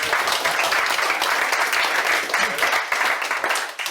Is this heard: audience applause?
yes